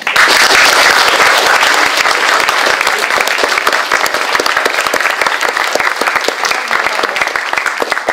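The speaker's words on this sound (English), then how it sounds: "just like to a round of applause for John." Sustained applause from a sizable audience at the end of a talk, dense and steady clapping at full volume for the whole stretch, tapering only slightly toward the end.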